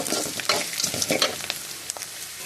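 Curry leaves and rock salt sizzling in hot oil in a pan, a close crackling fry with stirring scrapes and small pops throughout, no talking.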